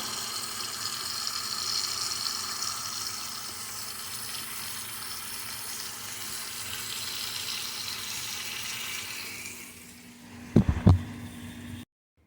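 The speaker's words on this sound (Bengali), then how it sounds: "অনেকবার ধুয়েছি এটাই হবে লাস্ট ধোয়া" Tap water running steadily into a sink while Malabar spinach is washed, a continuous close splashing rush that stops near the end with a few clattering handling knocks.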